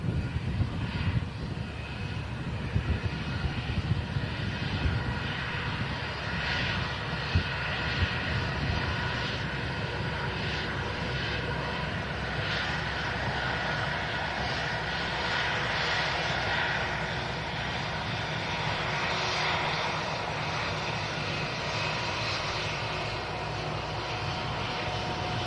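An Airbus A319 airliner taxiing past at an airport: a steady, loud jet engine whine and rumble that swells gently as it rolls by, continuing unbroken throughout.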